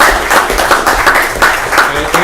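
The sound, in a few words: applause at a city council meeting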